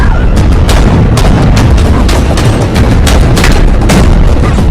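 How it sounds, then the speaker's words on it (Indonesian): A loud, continuous movie gunfight exchange in the action film The Marksman, with dense booms and bursts of shots packed close together over a dense rumbling roar, with no gaps of quiet. "Dan akhirnya terjadilah aksi saling tembak."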